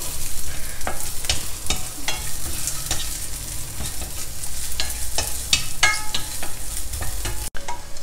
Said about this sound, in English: In the same ghee, I have taken about 2 tablespoons of small pieces of coconut, and we'll fry this also and keep it aside.